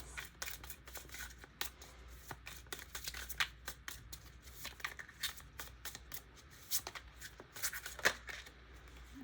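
Oracle cards shuffled by hand in a quiet room, a steady run of close, crisp riffling and slapping bursts that keeps going without any talk.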